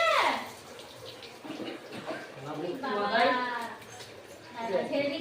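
Water splashing and running as a small child is bathed, soft sloshes and trickles coming and going beneath someone talking.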